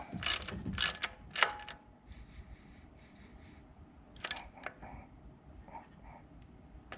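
Ratcheting clicks from a wrench tightening a spark plug into the engine of a 2012 Hemi 1500 pickup, in short bursts of close, crisp metallic ticks with quieter gaps between them.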